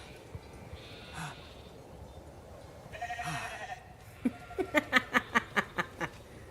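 Sheep in the video game The Alters bleat in a quick run of wavering, rhythmic calls near the end, preceded by muffled background noise and brief indistinct sounds.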